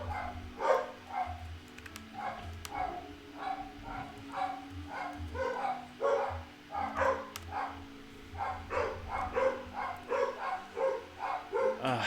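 A dog barks repeatedly in short rhythmic bursts, fairly close and moderately loud, the barking continuing steadily throughout with brief pauses between volleys.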